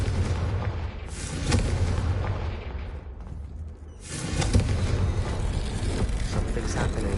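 A Confringo fire spell blasts in the video game Hogwarts Legacy, heavy booming explosions with a roaring rumble that dips briefly and then swells again into a second sustained burst.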